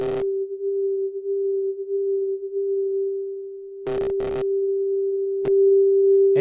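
A Sytrus synthesizer holds a steady pure tone with chorus pitch modulation set to a faster speed, giving barely any audible wobble. A few brief clicks and buzzy bursts cut in over the sustained note.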